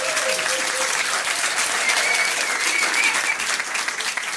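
Pub trivia quiz audience at The Yard giving a round of applause, dense continuous clapping from a crowd filling the room, fairly loud and steady, tapering slightly toward the end.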